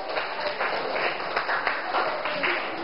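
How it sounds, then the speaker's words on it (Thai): Sixth-grade classmates in a Thai school classroom clap for a friend, an even, sustained patter of many small hands at moderate loudness for nearly three seconds. "ปรบมือเพื่อนหน่อย"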